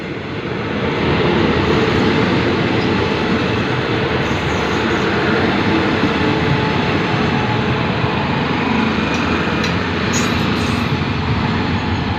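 A Thai special express train pulls into Nakhon Lampang station with a loud, sustained rumble of wheels and carriages, faint higher squeals surfacing now and then.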